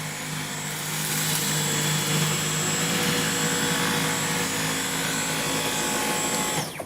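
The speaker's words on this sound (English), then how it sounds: "So now we have the Dyson V11. Let me put it on low." Dyson V11 cordless stick vacuum cleaner running on low mode over carpet, a steady, whirring motor drone with a faint high whine, continuous and fairly close until it cuts off at the end, with no talking.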